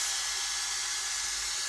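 A Dyson Air Straight hair dryer-straightener blowing air, heard as a steady, close, high-pitched airy whoosh that holds an even level throughout.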